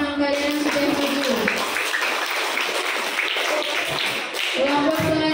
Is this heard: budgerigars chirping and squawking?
no